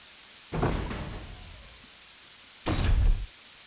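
In the game Resident Evil HD, a door opens with a heavy creak and rumble, then, after a short pause, closes with a second louder thud, with no talk over either.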